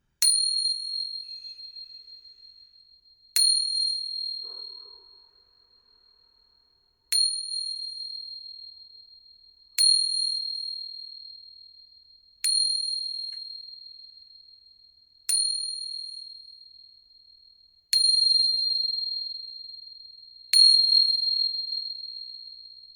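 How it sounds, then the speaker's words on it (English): A chime rings eight times at slow, even intervals, each bright metallic strike decaying into silence before the next, clear and close in an otherwise quiet room. "focus on the sound of these chimes"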